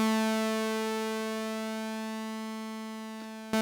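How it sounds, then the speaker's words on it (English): Synthesized tone through a chorus subpatch effect, a steady harmonic-rich note held alone for several seconds and slowly fading, with a brief click near the end. "you probably know what a chorus effect sounds like"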